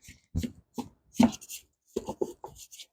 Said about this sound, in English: I'm going to go ahead and scrape down the sides of the bowl